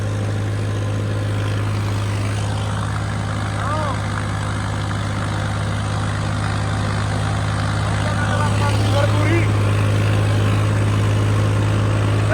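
A Swaraj 855 tractor drags two sets of 8x8 disc harrows across a field, its engine holding a steady, loud low drone throughout, with someone talking over it now and then.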